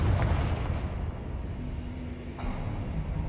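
A Confringo blasting spell explodes in the Hogwarts Legacy video game during a boss fight, a loud, rumbling, sustained blast filling the whole moment with no voices.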